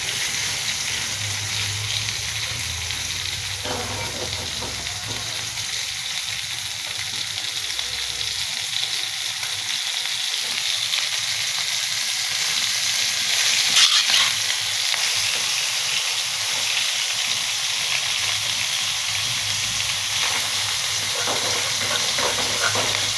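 Poa fish frying in a pan, a loud, continuous oily sizzle and crackle that holds steady throughout, close up, with occasional faint stirring or pan sounds and no speech.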